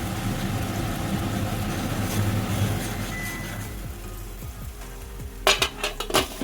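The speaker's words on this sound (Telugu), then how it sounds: "ఉల్లిపాయ ఎర్రగా వేగాలి." Onions frying in a pan until reddish give a continuous close sizzle, with a few sharp utensil clinks near the end.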